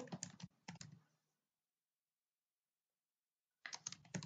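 A command is typed on a computer keyboard in bursts of close key clicks, with a short pause in between before a final quick flurry of keystrokes, in a quiet room without speech.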